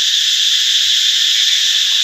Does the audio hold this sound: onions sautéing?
no